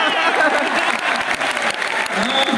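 Audience applause at a university kavi sammelan, a dense burst of clapping from a hall crowd with voices audible over it.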